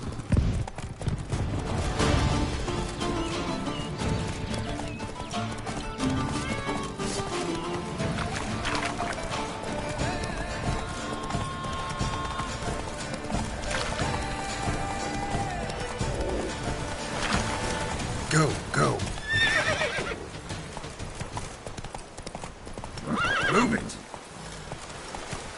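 Horse hooves clip-clop at a gallop with neighs and whinnies while riding in The Witcher 3: Blood and Wine, continuous game sound with a voice speaking over it.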